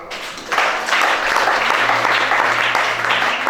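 A church congregation at a Gabonese deliverance service breaks into sustained applause, a dense wash of many hands clapping together that starts abruptly and holds steady throughout.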